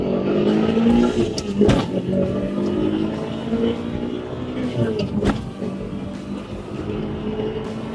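A Mitsubishi Lancer Evolution 6 GSR engine pulls hard through three gears, its loud rising drone broken by sharp shift pauses, with faint talk barely present underneath.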